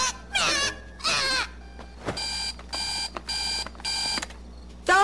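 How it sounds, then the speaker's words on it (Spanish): An alarm clock rings in a cartoon, its electronic warbling tones repeating in a steady series of loud bursts, preceded by two bleating, voice-like sweeps. "¿No tienes una alarma súper molesta que hace?"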